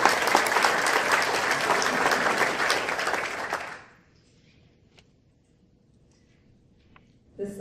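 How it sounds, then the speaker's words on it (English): An audience at a STEM breakfast event bursts into applause, a dense clapping that holds for several seconds and then tapers off into quiet room tone with a few faint scattered sounds. "give yourself a hand of applause"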